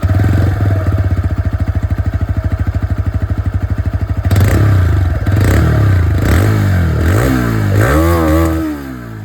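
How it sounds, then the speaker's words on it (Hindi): A TVS Raider 125 motorcycle engine idles with a steady, rapid exhaust putter, then revs up and down in several throttle blips before settling. "दोनों ही बाइक की जो इंजन की साउंड है, फिर एग्जॉस्ट साउंड, वो मैं आप लोगों को सुना दूँ"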